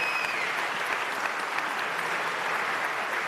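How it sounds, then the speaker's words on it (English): A town hall audience in Queens gives Mayor de Blasio a steady, sustained round of applause, dense clapping from a roomful of people with no talk over it. "Let's all give him a big round of applause for being here in our community."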